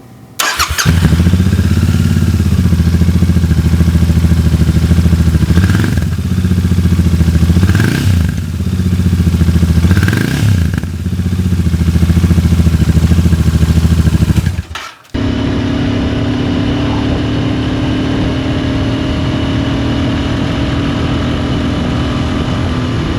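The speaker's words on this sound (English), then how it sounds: "On this bike, the exhaust to me sounds decent. It's a little bit towards the sewing machine end of the spectrum, but it's not quite that bad." A Royal Enfield INT650 twin with a somewhat choked stock exhaust rumbles loudly up close, revving in several distinct swells before cutting out, after which a steadier, quieter engine drone continues alone.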